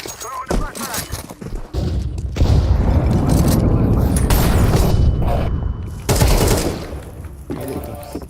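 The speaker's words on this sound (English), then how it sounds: "Throw the flashbang." A flashbang grenade and other combat sounds in Counter-Strike 2 make heavy booming bursts and sustained gunfire-like crackle in several loud blasts, with players talking over the action.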